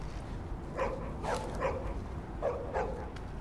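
Short dog barks and yips in the Tom Clancy's The Division video game, about four sharp bursts spaced across a few seconds over a steady low background hum.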